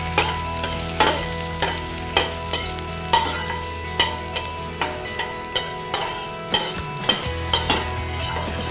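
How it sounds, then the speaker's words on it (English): Onions frying in a hot pan, a steady close sizzle punctuated by regular spatula scrapes and taps against the pan, roughly one per second. "We'll go ahead and add your onions. I'll let them heat up for a while."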